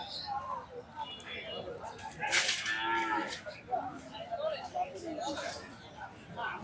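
Cattle, including small calves, moo at a busy cow market, with a few loud, drawn-out calls rising over a steady crowd murmur and nearby voices.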